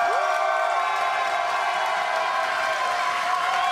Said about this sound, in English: Let's hear some energy from the crowd.